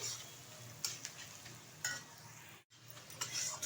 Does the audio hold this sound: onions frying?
yes